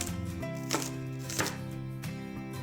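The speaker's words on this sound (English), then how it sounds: "Now cut about 3 slices of ginger and some scallions cut into segments." Knife cutting ginger slices and scallion segments on a board, three or four separate crisp chops at a slow, even pace, heard against a steady background hum.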